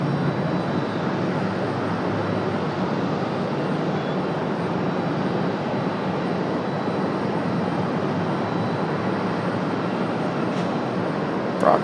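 A 32-year-old FedEx Airbus A300 heavy jet at Raleigh-Durham airport, a loud, steady broadband engine roar that holds evenly throughout without any talk.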